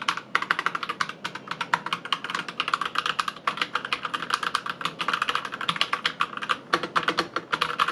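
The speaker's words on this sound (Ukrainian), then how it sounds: "Загалом ХАТОР Starfall RGB це механічна клавіатура" Rapid, steady keystrokes clatter on a Hator Starfall RGB mechanical keyboard, crisp close clicks in a continuous typing run with no voices.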